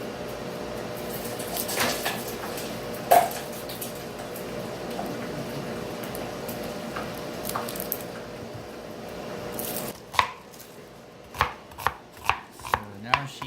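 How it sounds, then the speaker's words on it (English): An onion is chopped into small cubes for pakbet. Soft slicing and rustling come first, then a run of six crisp, evenly spaced knife chops on a cutting board near the end. "So now she is cutting the onion."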